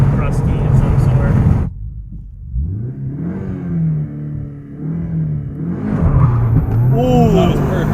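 A Mitsubishi Evo engine revving hard into boost cut and the limiter, loud wavering engine tones that rise and stutter, with people talking over it.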